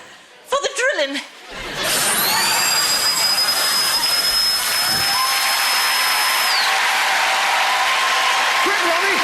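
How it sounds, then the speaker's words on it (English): A drilling machine on a TV game show starts after a brief burst of voices, then runs as a loud, steady, high-pitched mechanical whine with a rising tone for several seconds before it winds down. "Now, for the drilling."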